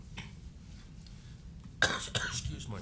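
A couple of sharp coughs from a man with a bad cold in a Utah courtroom during a ski crash trial, close and fairly loud after a quiet stretch of room noise.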